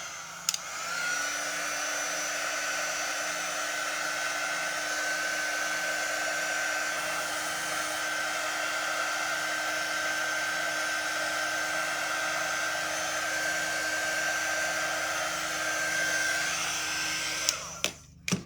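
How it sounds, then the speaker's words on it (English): A hair dryer blows continuously with a steady whining hum for about seventeen seconds, close and even, clicking off at the end. "I'm gonna go ahead and hit it with the dryer just a little bit."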